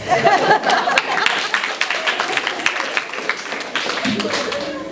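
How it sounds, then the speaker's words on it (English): Audience at a talent show laughing and clapping in a scattered burst after a comedian's line, fading out as he resumes talking. "It's okay to laugh and even applaud that."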